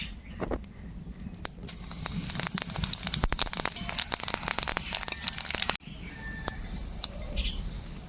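Dried red chillies, whole cumin and nigella seeds frying in hot mustard oil in a kadai: a close, continuous dense crackling and spitting that holds steady throughout, with a brief dip near the end.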